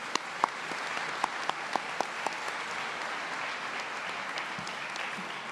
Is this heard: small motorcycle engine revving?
no